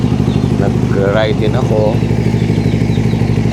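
A Suzuki GSX-S150 motorcycle engine runs close and loud at a steady idle-like throb, with someone talking over it.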